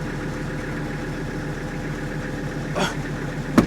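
A tractor engine runs at a steady idle-like throb, close and continuous, with a brief clunk near the end and a sharp knock at the close.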